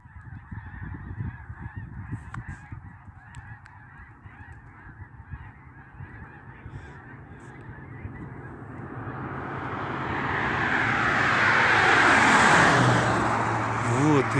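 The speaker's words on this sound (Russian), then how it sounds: "Какие-то гуси, что ли" A flock of geese in Nebraska honks continuously, the calls swelling louder toward the end, with low road and engine rumble underneath.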